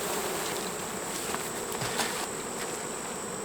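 Honeybees swarm and hum steadily around an open hive full of capped frames during a harvest, a dense, even buzz lasting throughout, with a few louder passes as individual bees fly close.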